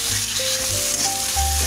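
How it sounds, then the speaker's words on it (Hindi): Veg keema gravy sizzling over a low flame while being mixed, a dense continuous hiss up close with faint tonal hum beneath, no speech. "अब इसको अच्छी तरह मिक्स करना है आपको"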